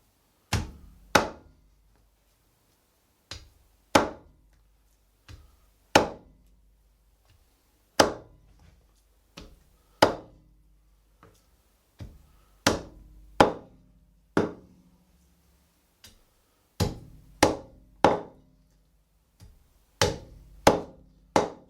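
A cleaver chops through pork chops while a whole pig is butchered nose to tail, sharp heavy thunks landing one after another at an uneven pace, some in quick pairs, with quiet gaps between them.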